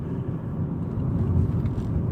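A car drives along, heard from inside as a steady low engine and road rumble that swells a little toward the end. No voices are heard.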